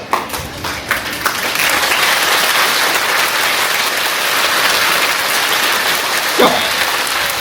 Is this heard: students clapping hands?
yes